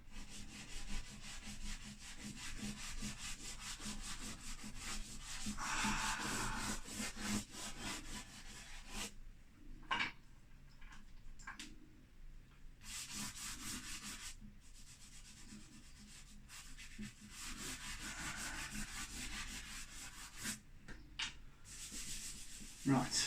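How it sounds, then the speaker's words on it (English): Fingers rub charcoal and chalk pastel across paper, making a continuous dry, scratchy friction close up, with brief pauses and changes in pressure and no speech. "rub this in nicely so I get a lovely consistency of coverage"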